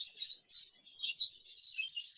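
Young budgerigar cocks in an aviary give a busy run of high, close chirps and warbles in several bursts, fairly quiet, with no voices.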